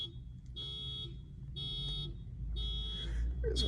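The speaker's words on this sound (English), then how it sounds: "There's a fucking car alarm." A car alarm blares at a distance, sounding a loud electronic whooping tone in four repeated bursts of about half a second, each separated by a short gap.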